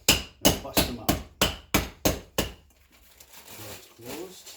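The flat end of a hammer strikes packaged Take 5 candy bars, eight sharp, evenly spaced blows in quick succession, followed by quieter crinkling of the wrapper and a voice speaking softly.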